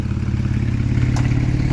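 Porsche 911 997 with its valved sports exhaust open and welded-in old catalytic converters, idling with a close, loud, steady burbling throb and no talk.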